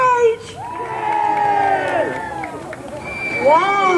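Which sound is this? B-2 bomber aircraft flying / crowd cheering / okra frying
crowd cheering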